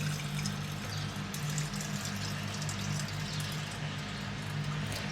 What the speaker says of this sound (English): you pour water into the teacup or the teapot, whichever you prefer